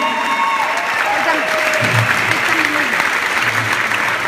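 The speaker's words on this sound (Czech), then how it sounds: "Přivítejte potleskem!" An audience at a 2015 Czech team championship event in Zlín applauds continuously and loudly as the players are welcomed in, while an announcer's voice carries over the clapping.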